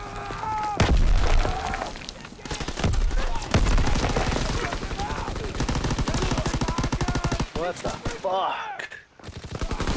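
Gunfire and explosive bursts from a fighter plane strafing run in Call of Duty WWII, Hardpoint mode on the Gibraltar map, loud and dense throughout, with a man swearing briefly over the din.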